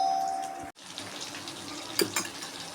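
Tamarind water is poured into a sardine fish curry, making a continuous close splashing pour that briefly cuts out and then carries on, with a small clink partway through.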